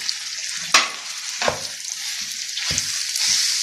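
Chopped onion, chiles and green pepper stirred into frying bacon for chili dogs, a steady close sizzle with a few sharp scraping stirs, no talking.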